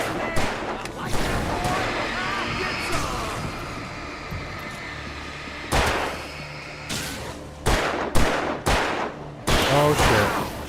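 Gunfire in the horror action game Alan Wake Remastered: several loud, sharp shots burst out in quick succession near the end, following a stretch of busy game noise and a voice.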